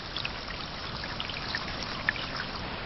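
Water from a sprinkler spraying and splashing into a puddle outdoors, a continuous close hiss of falling droplets with a few brighter splashes.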